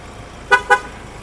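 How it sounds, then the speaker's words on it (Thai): Aftermarket dual-tone snail horn pair, one low and one high, fitted to a 2020 Ford Raptor, giving two short loud honks in quick succession, close and clear. "เปลี่ยนแตรเป็น แตรหอยโป่งนะ2ตัวเสียงทุ้มกับแหลมนะฮะ"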